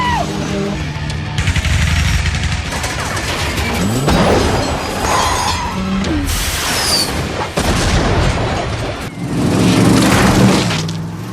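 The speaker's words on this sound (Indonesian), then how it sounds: "Mereka yang mobilnya hancur di tengah balapan, ujung-ujungnya juga mati tertabrak oleh mobil lainnya." Race cars smash and crash in the film Death Race: loud metallic impacts and booming collisions, with roaring engines and a rush of debris, dense and continuous, building to a heavy crash near the end.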